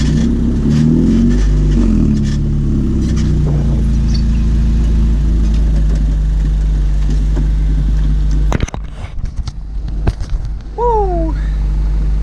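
Ariel Atom with a Honda VTEC engine revving hard, a loud sustained drone climbing in pitch, then a sharp break as the engine cuts and revs again, close and dominant throughout.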